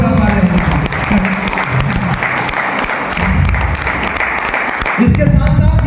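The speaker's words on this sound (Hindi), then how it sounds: "एक जोरदार ताली" An audience at a direct-selling motivational seminar breaks into loud, continuous applause, a dense wash of clapping that holds steady for several seconds.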